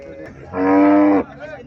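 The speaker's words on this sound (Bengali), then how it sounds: "এখানে একটা গাভী দেখা যাইতেছে।" A Haryana breed cow gives a single loud, close moo lasting about a second, with a low ambient rumble before and after it.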